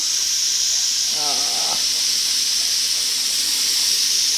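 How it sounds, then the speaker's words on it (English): Steam hisses continuously and loudly from the vent of a pressure canner during pork loin canning, a steady rushing hiss throughout with a brief voice-like sound partway through. "the steam just gets it every time"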